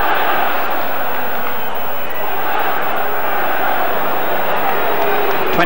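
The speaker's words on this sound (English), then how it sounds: "the crowd have played their part in whipping up a tremendous atmosphere" Football crowd at Elland Road, Leeds, during a Leeds United match against VfB Stuttgart, a dense, steady roar of cheering and chanting that fills the whole stretch, loud and unbroken.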